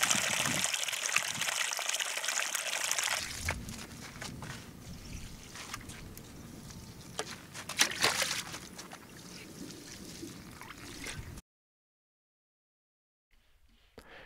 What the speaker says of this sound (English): And this is an example of what it looks like when it's raining.